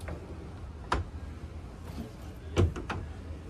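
A cabin door on a new 2023 Boston Whaler 320 Vantage boat, hung on a large stainless steel piano hinge, gives two sharp clicks as it is handled, one near one second and a louder one near the end, over a quiet background.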